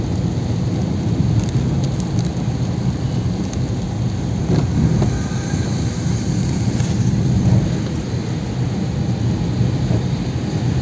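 Heavy rain pours steadily with rolling thunder rumbling low on the Wazirabad Signature Bridge over the Yamuna in Delhi, a dense, loud, continuous hiss of downpour with no voices.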